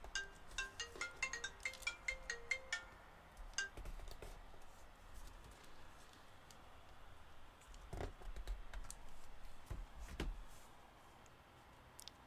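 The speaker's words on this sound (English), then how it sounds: "that is my mom calling me on the phone" A phone rings with an incoming call, a repeating melodic ringtone pattern that plays for a few seconds and then stops, faint, followed by quiet tapping and a few soft knocks.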